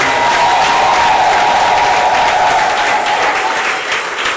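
A church congregation gathered for a parish feast day claps together in a loud, steady burst, with a faint held voice or tone running beneath the applause.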